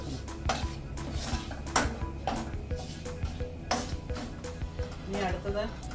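A spoon stirs coriander and fenugreek powder in a pan for a Kerala-style ginger curry, giving repeated metallic clinks and scrapes in an uneven rhythm, close and quiet, with a voice talking over it.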